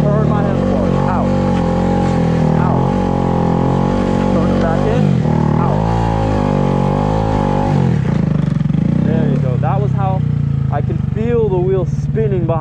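Honda Grom small motorcycle engine revving hard and holding high rpm while drifting, close and loud, with pitch dips and recoveries and a rough clattering idle near the end.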